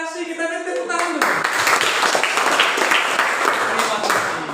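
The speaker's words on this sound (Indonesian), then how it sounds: "Kita beri tepuk tangan dulu." A classroom of students bursts into dense, loud applause for a classmate after a teacher's brief spoken line, the clapping sustained and continuous to the end.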